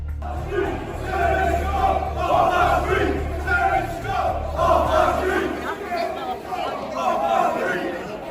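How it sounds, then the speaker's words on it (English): Thousands of protesters in Manchester city centre chant in rhythmic, swelling waves of massed voices, with crowd chatter and a low rumble underneath. "Thousands gathered in the city centre, their voices rising in a unified call for change."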